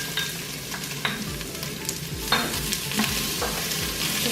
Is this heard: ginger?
yes